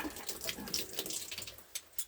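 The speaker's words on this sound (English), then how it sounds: "Water drains out." Water runs and drains from opened taps beneath the sink of an off-grid cabin being readied for winter freeze-up, a close, steady splashing hiss with a few brief gurgles and spatters.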